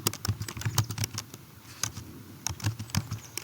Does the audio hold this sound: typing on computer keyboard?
yes